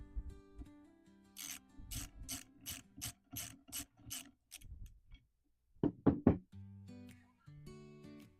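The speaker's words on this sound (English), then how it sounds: "Then that same 11 millimeter socket, remove the breech plug." A socket wrench ratchets in a quick run of about nine close, crisp clicks while an 11 millimeter socket loosens the breech plug of a Knight Revolution .50 caliber muzzleloader, followed by a few louder metallic clunks and handling knocks.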